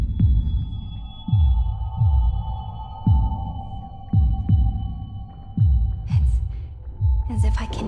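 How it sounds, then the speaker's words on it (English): Video game heartbeat effect of deep, close thumps in a slow repeating rhythm over a steady electronic hum, with faint chiming tones toward the end. "It's as if I can hear the sound of my heart beating."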